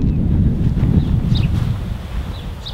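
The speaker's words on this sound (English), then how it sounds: "There's a good stiff wind blowing here this morning" A strong, stiff morning wind blows outdoors around a camera tripod, rumbling and buffeting the microphone in a steady low roar throughout.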